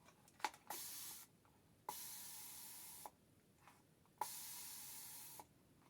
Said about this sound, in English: Look at the spray.